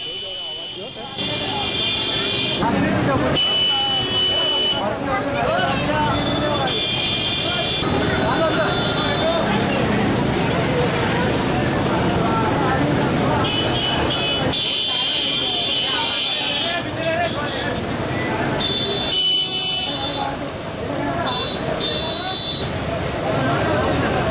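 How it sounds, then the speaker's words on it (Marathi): Vehicle horns honking in a traffic jam at a city junction, repeated loud, piercing blasts of varying pitch over constant engine rumble, with a voice talking throughout. "वाहनं खोळंबल्याने हॉर्न वाजवले जातात"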